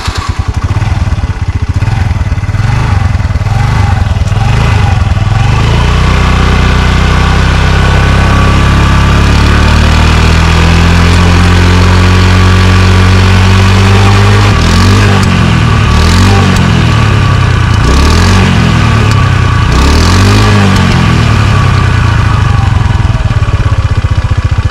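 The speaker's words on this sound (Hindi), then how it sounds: "इसकी जो मेन चीज है एग्जॉस्ट नोट, वो भी अभी आप लोगों को सुनाते हैं" A 2009 Honda Activa scooter with a modified silencer runs loud and close, idling then revving repeatedly, the exhaust note rising and falling in several blips with no talk.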